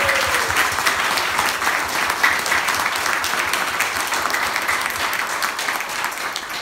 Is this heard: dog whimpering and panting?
no